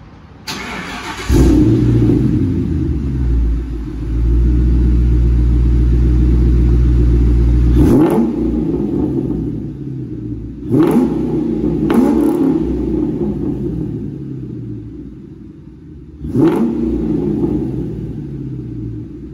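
A 2002 Mustang GT with a Magnaflow exhaust and X-pipe rumbles at idle, then revs loudly several times, each throaty burst settling back into a deep idle.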